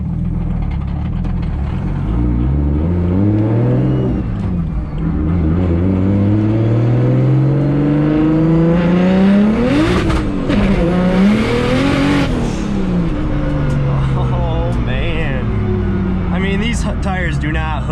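A 750 hp BMW 135i roaring through hard revs and acceleration, a loud continuous engine note climbing and falling in pitch, close and dominant.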